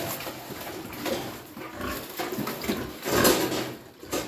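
A pig eats feed from a trough, making a continuous close, wet chomping and slurping sound with occasional grunts and clatters.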